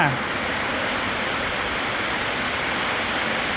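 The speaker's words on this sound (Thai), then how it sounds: "ฝนตกมา" Steady, dense rain pouring down, a continuous broadband hiss with no gaps, fairly close and even throughout.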